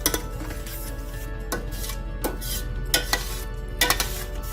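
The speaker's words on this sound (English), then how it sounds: "Keep gently stirring." Creamy pasta with Italian cheese being gently stirred in a pot, with soft scraping and intermittent clinks of a utensil against the cookware over a faint sizzle and background music.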